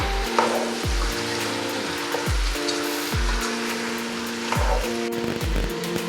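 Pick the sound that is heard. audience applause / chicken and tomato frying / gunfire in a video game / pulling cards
chicken and tomato frying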